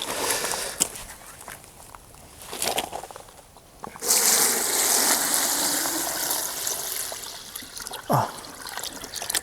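Rainwater poured into a barrel packed with nettles for making nettle fertiliser, a steady close trickle and splash of liquid starting suddenly partway through and continuing to the end, with brief handling knocks and a short rustle near the finish.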